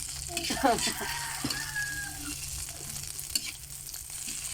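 Scrambled eggs stirred and fried in a pan, steady sizzling with scraping utensil strokes, close by, with faint voices and a brief tonal squeak in the background.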